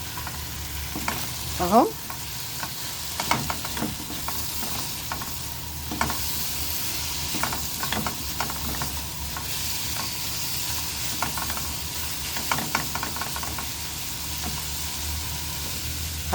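Spices, black pepper and cumin, fry and sizzle in a pan on the stove, a steady crackling hiss broken by repeated stirring scrapes, with a brief word spoken once.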